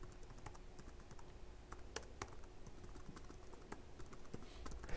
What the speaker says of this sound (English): Now notice I'm typing into just an arbitrary application here.